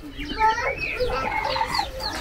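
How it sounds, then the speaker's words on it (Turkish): Chickens cluck and chatter busily at close range in a village coffeehouse yard in Samsun, with a voice mixed in among the birds. "Bunlar tavuk mu?"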